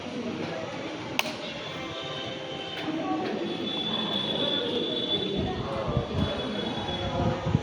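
A train rumbles steadily through Nadiad railway station, with a continuous low roar, occasional sharp metallic clanks and a faint high squeal, loud and close.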